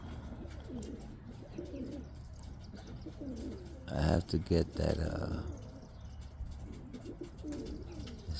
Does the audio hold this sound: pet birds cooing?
yes